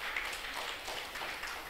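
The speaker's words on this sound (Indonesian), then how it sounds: "Tepuk tangan buat Tuhan." A congregation claps together during a Sunday Indonesian church service, giving a dense, steady roll of applause from the whole room that carries evenly at moderate loudness throughout.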